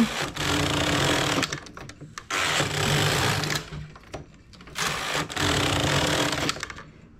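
Knitting machine fitted with a ribber, its carriage handle pushed across in repeated passes: four loud mechanical whirring runs separated by brief pauses, with clicks and clatter at the ends of each pass.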